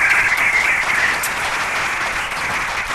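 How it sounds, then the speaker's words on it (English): An audience applauds a panel of producers at a professional event, a dense, steady wash of many hands clapping that holds at full strength for the whole stretch, with no voices on top. "Let's give Carl a round of applause"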